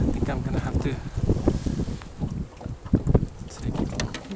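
Gusty wind buffets the microphone on a boat out on the water during fishing, with low rumbling bursts and splashy movement throughout and a voice speaking over it.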